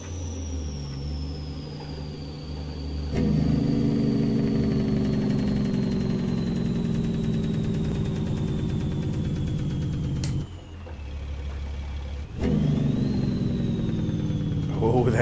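A Cat C-12 truck engine in American Truck Simulator rumbles steadily under load, its Jake brake chattering in a low, throaty drone, with a pitch that drifts downward and a couple of gear-change dips and surges.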